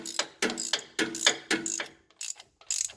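A bearing puller tool is ratcheted to draw a bearing on a first-generation Toyota Tundra, giving a close run of crisp metallic clicks in quick bursts, with short pauses between strokes.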